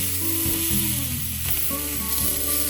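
Loud, constant sizzling and crackling of steak frying in a hot pan, with a faint scraping or pressing sound partway through as the steak is pressed down, and no talking.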